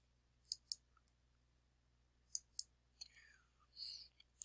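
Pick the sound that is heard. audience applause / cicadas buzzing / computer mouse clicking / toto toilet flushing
computer mouse clicking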